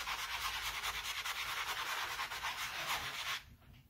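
A moistened board eraser scrubs paste off a silkscreen with a steady, close, soft rasping rub in quick back-and-forth strokes that stops abruptly near the end.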